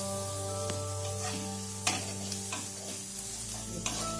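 Onions for biryani fry in oil with a soft, steady sizzle under a constant kitchen hum, punctuated by several sharp utensil taps and stirring scrapes, close and moderately quiet.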